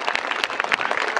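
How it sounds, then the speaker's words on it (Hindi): Dense crowd applause for the pole raisers at a Swedish midsummer celebration, steady and close, filling the whole moment with many overlapping hands and no pauses. "यहाँ मौजूद अवाम तालियां बजाकर"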